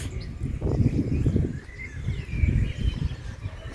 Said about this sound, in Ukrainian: тим більше так співають пташки